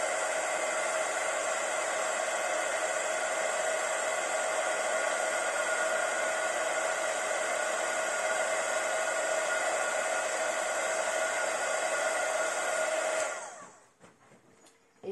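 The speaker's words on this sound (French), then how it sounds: "un pistolet à chauffer. Et vous allez venir chauffer votre poudre." A heat gun blows a steady, loud airy roar while heating embossing powder on a card, running unbroken before cutting off near the end, followed by brief quiet handling.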